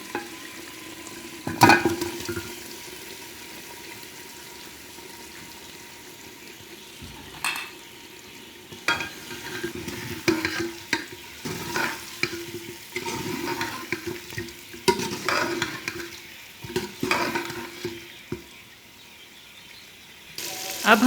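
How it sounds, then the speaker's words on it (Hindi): Fried mutton goes into a pot for kachnar gosht, giving a wet, moderate sizzle with scattered stirring and clattering bursts that swell and fade over about twenty seconds, close and without talk. "अब हम इसमें फ्राई किया हुआ गोश्त डालेंगे।"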